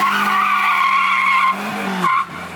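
A 30-year-old Nissan spins second-gear donuts in a cul-de-sac, its engine droning steadily before the tires let out a sharp skidding squeal that cuts off near the end.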